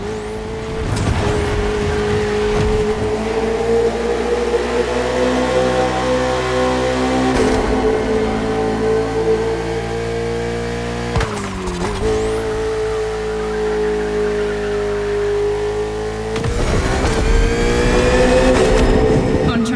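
High-revving engines of a KTM RC16 motorcycle and a Ferrari 488 GT3 in the video game The Crew Motorfest whine loudly and steadily, climbing and dropping in pitch with sharp gear shifts and brief bursts of tire noise between runs.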